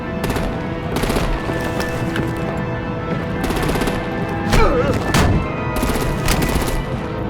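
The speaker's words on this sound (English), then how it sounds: "Break out the artillery and disable their vehicles!" Gunfire in the Batman: The Enemy Within video game, loud rapid automatic bursts rattling continuously through the scene, dense and close with repeated surges.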